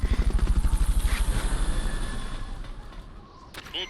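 Helicopter rotor in Metal Gear Solid Peace Walker during a Fulton recovery, a loud rhythmic chopping thump that fades over a few seconds, with a brief higher mechanical clatter near the end.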